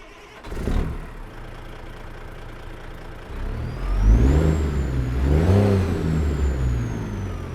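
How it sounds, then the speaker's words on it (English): Detroit Diesel 60 series engine in a Peterbilt 379 in American Truck Simulator, idling low and then revving up twice in rising and falling swells, fairly close and alone without talk. "I've got Z-Mod's Detroit Diesel 60 series in this thing. Have a listen."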